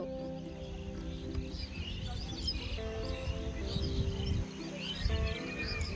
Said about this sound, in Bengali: পাখি ডাকছে শোনো